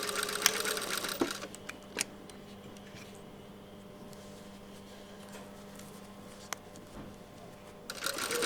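A sewing machine stitching a shirt sleeve and side seam, a soft steady mechanical whir with a few sharp clicks and taps at the start and end, close and fairly quiet with no talk.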